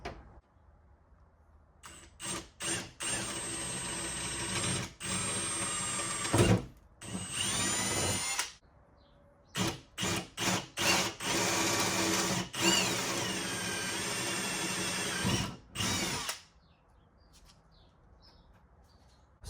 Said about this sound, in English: Now I'm going to drill it out a little bit bigger.